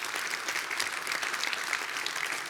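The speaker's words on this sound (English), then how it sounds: "I think we should all give them all a round of applause." A conference audience at a closing panel claps warmly, a dense, even wash of applause sustained throughout with no voices over it.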